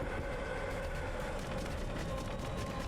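A train in the video game Choo Choo Survivors makes a steady, continuous rolling rumble with faint rhythmic clatter, moderately loud and unbroken throughout.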